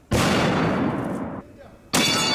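A single Barrett .50 caliber rifle test shot: one very loud, abrupt blast opening into a sustained roaring decay, followed about two seconds later by a second sharp loud report at close range.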